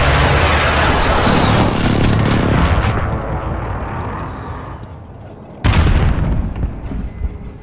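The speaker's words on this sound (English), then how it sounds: "Allied precision airstrike in." Allied precision airstrike pounding the map in Call of Duty Modern Warfare alpha: a loud rolling barrage of booming explosions that slowly fades, then a second sharp blast hits near the end and rumbles on.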